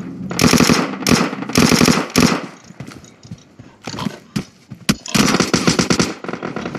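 Rapid bursts of automatic gunfire crackle in quick succession, with short pauses between volleys, loud and close.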